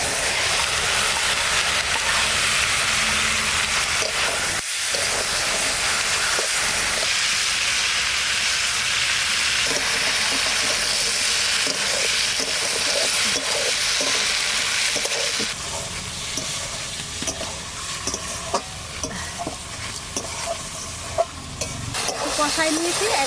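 Pakal fish fries in hot oil with bay leaf, dried chilli and cumin, a loud continuous crackling sizzle up close that eases slightly in the second half, with scattered stirring knocks.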